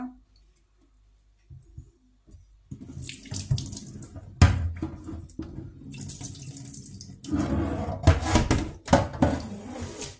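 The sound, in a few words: tap water running into sink, rinsing meat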